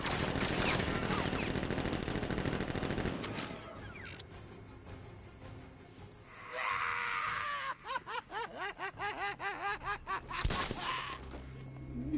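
Guards in Batman: Arkham Knight firing automatic weapons in a loud, dense fusillade that cuts off after a few seconds. Rapid repeated bursts, yelling and cackling laughter follow.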